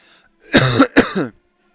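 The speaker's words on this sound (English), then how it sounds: "sorry, just clearing my throat." A single close throat clearing in two quick rough bursts, then silence, during War Thunder game commentary.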